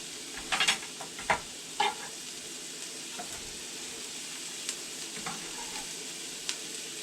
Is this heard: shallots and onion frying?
yes